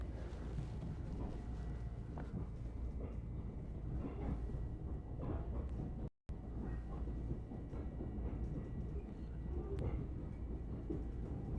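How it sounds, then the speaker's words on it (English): A train rumbles steadily through the Sunnyside rail yards in New York City, with low rolling noise and wind buffeting the microphone, broken by one brief dropout midway, with no voices. "So here we're passing through the Sunnyside train yards."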